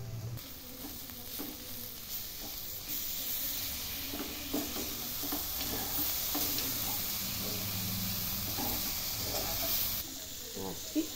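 A vegetable keema curry of cauliflower, carrot and green peas sizzles steadily in a pan after two spoons of curd go in, with a close, continuous frying hiss and occasional stirring scrapes.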